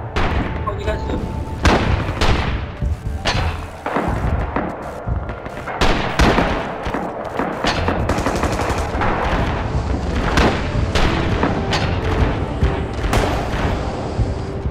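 Opening of an artillery barrage in the shooter Rising Storm, with sharp repeated gunshots and booming impacts spread through the scene, steady and loud, and voices mixed in.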